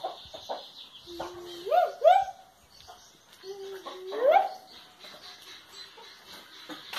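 A hen with grown chicks clucks and calls several times in short rising bursts, fairly close, with the chicks following her and light background noise around.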